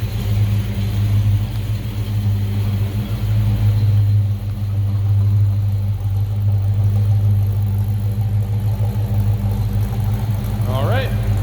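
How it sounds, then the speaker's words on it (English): A 1971 Chevrolet Chevelle Heavy Chevy tribute muscle car idles nearby with a loud, steady low rumble that stays even throughout. Close-up engine noise dominates with no clear break. "the car's got a nice sound to it, nice rumble, the way a muscle car should be"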